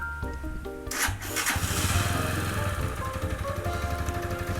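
A 2019 GPX Raptor 180 motorcycle engine with stock exhaust cranks and catches after a brief starter whir, then settles into a steady, loud idle with a rapid thumping rhythm.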